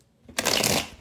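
Quick riffle shuffle of a tarot card deck, a single dense papery burst of about half a second, close and clear with no voices.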